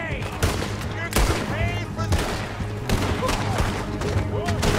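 Repeated gunshots and short bursts of fire ring out in the Western video game Red Dead Redemption, loud and close, mixed with other game sounds and a voice talking throughout.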